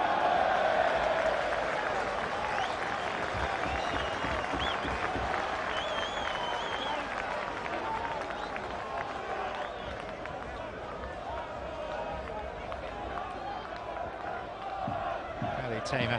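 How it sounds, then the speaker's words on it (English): A football crowd at a Kettering Town versus Fulham match applauds and urges a player to shoot. The roar is loud and sustained and slowly fades, with a commentator talking over it. "Yashin, urged to shoot by the crowd."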